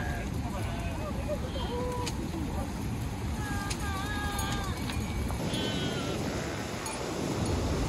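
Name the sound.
sheep bleating on a trek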